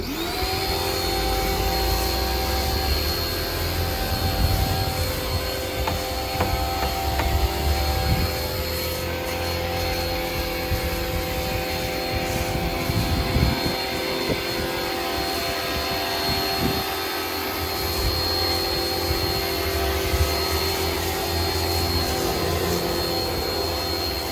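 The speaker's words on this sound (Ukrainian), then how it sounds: "зараз ми дамо автохімію, спробуємо як буде з хімією, як вона розпилює" Kraft&Dele KD432 pressure washer, 2.8 kW and 280 bar, runs with its motor droning steadily while it sprays car-wash chemicals, a loud continuous whine and hiss with no talk.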